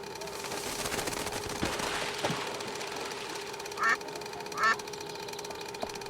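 Two short, bright duck quacks from the video game Secret Files 2, heard a second apart over a steady ambient game hum, with no talking.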